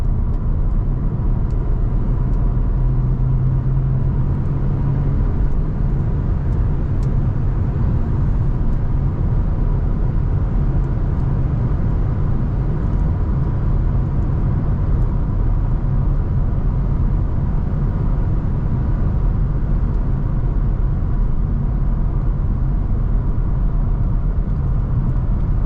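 A BMW 5 Series G31 530xd on winter tyres driving through a corner, heard from inside as a steady low road and engine rumble with tyre noise, constant and unbroken for the whole stretch, no voices.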